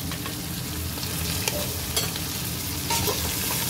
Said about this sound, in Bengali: সবজিগুলো ভাজা হওয়ার সময় অবশ্যই একটুখানি নুন দিয়ে দেব।